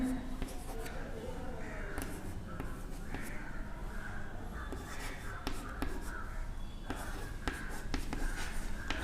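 Numbers written by hand during a class 5 maths lesson on ascending and descending order, a run of close scratchy pen or chalk strokes in short bursts, with quiet talk underneath.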